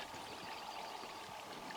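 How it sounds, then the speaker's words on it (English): Spring water at Oregon Butte Spring flows and trickles steadily as bottles are filled, a continuous, fairly quiet broadband rush with no voices. "Aaron and I hiked down past our camp to the Oregon Butte Spring. We're gonna fill up and hike water back to camp."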